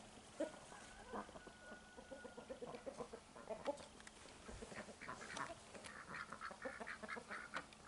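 Ducks quack and hens cluck in a farmyard alongside a rooster of a Transylvanian breed, the calls scattered and overlapping at moderate distance over an outdoor background, with no talking.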